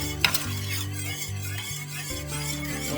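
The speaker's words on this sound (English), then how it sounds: "I'm going to add a little pepper, and we'll put in a little salt, and then stir it up." Spoon stirring chicken broth seasoned with pepper and salt in a pot, a steady scraping and swishing with faint simmering underneath and a sharp clink early on, close and unaccompanied by talk.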